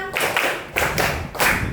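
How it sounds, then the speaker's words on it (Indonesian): A classroom of students claps together in rhythm on a teacher's count, sharp near hand claps landing in a few distinct group bursts in a lively school setting. "Tepuk 1, tepuk 2, tepuk 3, tepuk 4, tepuk 5."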